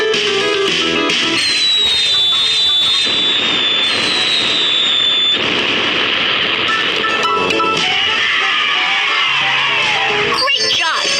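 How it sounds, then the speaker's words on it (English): Fireworks go off in a children's cartoon game featuring a baby panda and a boat, with loud rising whistles followed by bursts and crackles repeating several times over bright, busy game music. "Let's set off fireworks."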